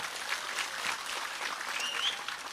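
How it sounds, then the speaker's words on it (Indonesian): A crowd claps for Banser and Pemuda Pancasila members at a gathering, producing a moderately soft, even wash of applause that holds steady throughout. "Tepuk tangan untuk Banser dan pemuda Pancasila."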